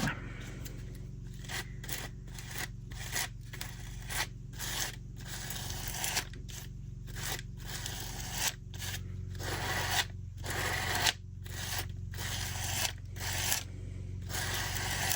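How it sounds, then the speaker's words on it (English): Gesso being smeared with a tool across a small mixed-media junk journal cover, a run of rhythmic scraping and rubbing strokes broken by short pauses, close up and with no talking. "I am just going to smear this on"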